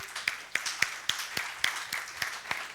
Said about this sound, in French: Si vous voulez, on donne acclamation à notre Dieu.